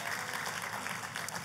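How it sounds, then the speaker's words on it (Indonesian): Church congregation applauding enthusiastically, a steady dense wash of clapping that fills the whole short stretch at moderate level, with some voices mixed in. "Tepuk tangannya pula yang paling meriah buat Tuhan kita."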